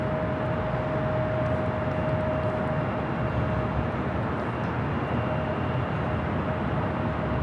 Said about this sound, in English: Next arrival is an American A321 coming in from Charlotte, flight 1576.